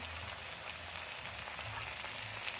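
Turmeric, coriander and cumin sizzle in hot oil in a pan for khichuri, a soft, steady crackling fry heard close with no voices.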